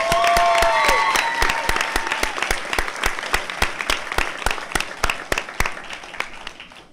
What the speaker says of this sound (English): Another round of applause, please, for Nayeli Fuentes.